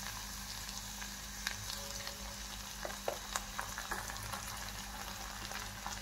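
Onion and capsicum sauté in a pan with Schezwan chutney, giving a steady, quiet frying hiss with occasional soft stirring clicks and pops.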